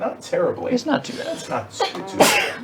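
A single sharp sneeze bursts out near the end, amid casual conversation among players at a tabletop session of the board game Forbidden Stars; people keep talking before and around it.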